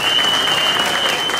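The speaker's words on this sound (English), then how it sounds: "give her a round of applause, man" A comedy club audience breaks into loud, steady applause, a dense wash of clapping from many hands that carries through the whole moment.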